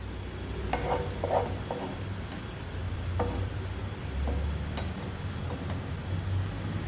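Onions fry in a pan for prawn biryani, giving a low, even sizzle with a few scattered clinks and scrapes of a utensil against the pan.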